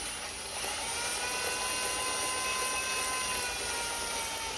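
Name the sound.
cylinder hone spinning in oil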